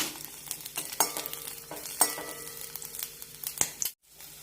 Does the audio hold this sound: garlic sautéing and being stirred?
yes